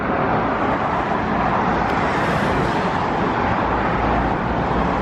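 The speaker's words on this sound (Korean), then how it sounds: "다음은 시끄러운 도로인데요" Loud, continuous roar of heavy road traffic on a noisy street, with vehicles including trucks rumbling past steadily for the whole stretch and no talking.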